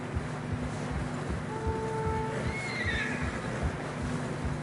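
Horses in deep fresh snow on a narrow mountain trail in Red Dead Redemption 2, whinnying and snorting close by over a dull steady wind and muffled hoof thuds.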